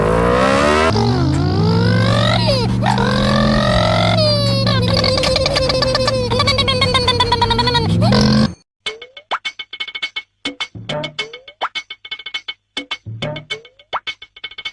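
A motorbike engine revs hard and loud with rising and falling pitch sweeps, then cuts to a series of sharp, sparse clicks and knocks, with no talking.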